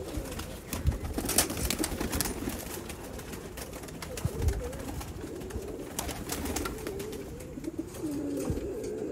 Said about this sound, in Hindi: बहुत आला सियालकोटी कबूतर